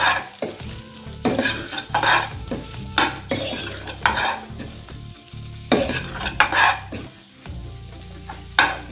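Colocasia roast tossed and stirred in a pan, with loud scraping sweeps of the utensil in repeated bursts over a frying sizzle, close by, with a few pauses between strokes.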